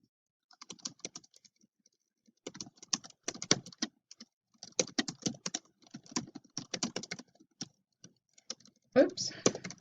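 Fingers type on a computer keyboard in quiet, uneven bursts of soft clicking with short pauses between words, close and faint.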